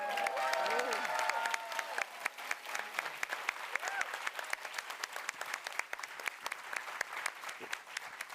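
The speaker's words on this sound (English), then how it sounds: "love for you guys to give them a round of applause." An event audience gives the production team a round of applause, dense clapping filling the room for several seconds, with crowd murmur and some talk audible at the start before the clapping settles into a steady patter.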